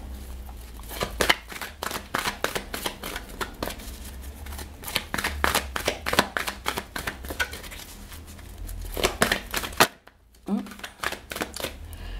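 Oracle cards shuffled by hand in a quiet room, a steady run of crisp riffling snaps and slaps close to the listener, with a brief pause near the end before the shuffling picks up again.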